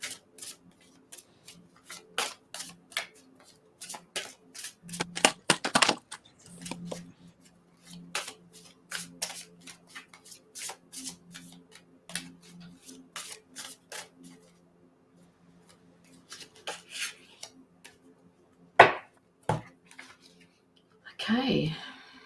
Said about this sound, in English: Sonia, tell me when to stop shuffling, please.